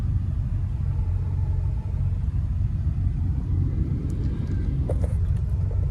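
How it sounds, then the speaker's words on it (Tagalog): Road traffic rumbles steadily while leaving Davao City, a low continuous engine drone heard from inside a vehicle, with a few faint clicks and light noises near the end. "Medyo ma-traffic. Ayan, traffic na naman,"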